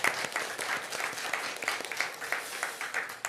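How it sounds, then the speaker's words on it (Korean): Church congregation at a Sunday worship service breaks into a round of encouraging applause, a steady, dense patter of many hands clapping throughout, fairly close and without talk. "격려의 박수 한번 쳐주세요."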